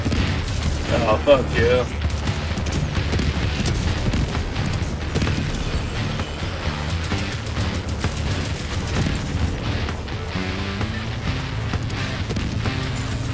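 Rocket explosions and rapid gunfire from the Helldivers 2 video game, with dense, continuous booms and bursts of shots layered over a game soundtrack, loud and constant, while a player curses and mutters over the action.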